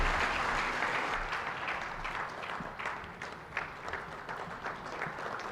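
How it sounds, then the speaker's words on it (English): Applause from a seated audience at the 44th SADC Heads of State Summit in 2024, a dense steady wash of many hands clapping that slowly thins toward the end, somewhat distant and under the hall's ambience. "another round of applause for the incoming SADC chairman, Dr. Emerson Dambudzo Mnangagwa"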